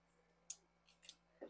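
Scissors snipping macramé cord, a few quiet crisp clicks spaced unevenly over a faint hum, with no talking.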